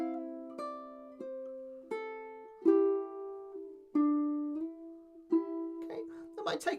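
St Anne's Reel played on a plucked string instrument with slides and pull-offs, a clear melodic line of distinct notes with bending glides between them, played alone up close.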